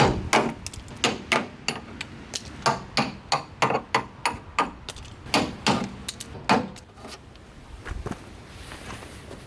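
A chipping hammer knocks thick body filler off an old convertible car, a rapid series of sharp, loud metallic impacts in quick bursts that taper to a few scattered hits and then quiet.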